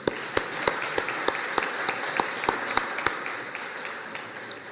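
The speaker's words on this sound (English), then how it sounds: "About a round of applause for all our speakers tonight." Applause from an audience at a community environmental justice meeting in McKinley Park, Chicago, a broad wash of clapping with a few sharp, distinct claps standing out near the front, slowly fading.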